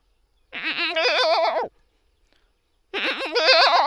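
A man imitates a goat bleating as if calling its kid, two loud, wavering, nasal bleats close to the microphone separated by about a second of silence.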